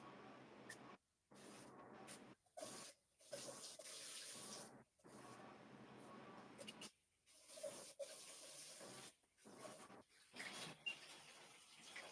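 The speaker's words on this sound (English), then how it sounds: "I'm gonna bring you in to join me in the shower" Shower water running steadily and close, broken by several abrupt silent gaps as the flow is blocked or interrupted, with no talking.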